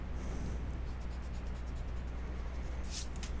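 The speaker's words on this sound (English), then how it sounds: "And I'll just erase this inside line." A pencil line on a drawing is erased with a faint, steady rubbing under a constant low background hum, and no one speaks.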